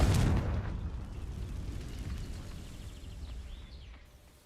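A fiery Confringo spell blast goes off in Hogwarts Legacy. A sharp, heavy boom opens it, followed by a long rumbling decay that slowly fades over several seconds, with faint game effects trailing underneath.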